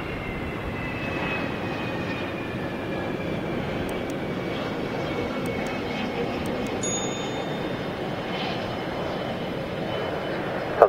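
A British Airways Dornier jet at London City Airport gives a steady, continuous engine roar with a faint high whine, holding at an even level throughout with no speech.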